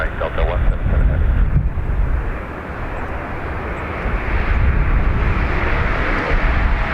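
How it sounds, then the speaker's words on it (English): A Delta Airbus A350-900 airliner takes off at Dublin Airport, producing a continuous loud engine roar with wind buffeting that surges slightly toward the end, heard from an outdoor spotting position. "an A350. A350 900, nice."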